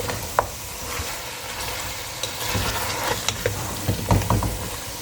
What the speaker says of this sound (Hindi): तो इसको मैं अब अच्छे से दोनों साइडों से फ्राई कर लूँगी